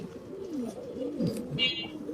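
Pigeons coo softly in low, rolling calls, with a brief higher chirp near the end; close and quiet, no talking.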